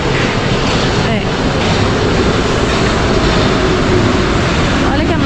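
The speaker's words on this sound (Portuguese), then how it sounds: "Lá vem o trem. Trem não, metrô." A Paris metro train arrives at the platform with a loud, continuous rumble and rail noise filling the whole stretch, close by and steady.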